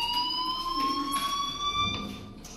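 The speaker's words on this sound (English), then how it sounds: "Hey, do you hear that fire alarm?" A fire alarm rings in the video game Life is Strange Remastered, a steady electronic tone that holds unbroken and fairly loud for the whole stretch, with faint background noise beneath.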